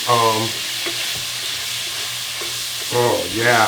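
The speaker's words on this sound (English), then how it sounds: "Now the red peppers going into that dish, into that pan. And I'm going to stir this up in here like this." Red peppers frying in a pan while being stirred, a close steady sizzle with scraping strokes of a utensil at the start and end and lighter clicks in between.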